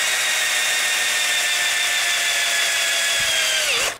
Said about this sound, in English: All you're going to need is a drill going right to here.